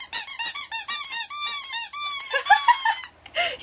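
A dog whines in high, squeaky bursts, a quick run of thin cries followed by a few longer drawn-out whimpers, close by and alone.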